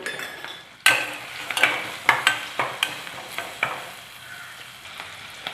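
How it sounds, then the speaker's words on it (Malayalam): Onion with ginger-garlic paste and salt sautéing in a pan, a soft continuous sizzle with a string of sharp, evenly spaced scrapes and taps of a spoon stirring, close and without talk. "ഇത് നന്നായിട്ടൊന്ന് വഴറ്റിയെടുക്കണം"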